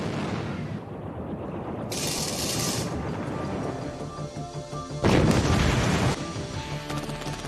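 Sky Shield 35mm revolver anti-aircraft guns fire two dense, roaring bursts about a second long each over a constant noisy rumble, with no talking.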